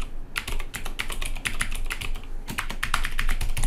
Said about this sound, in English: I'm going to go ahead and type in that email here.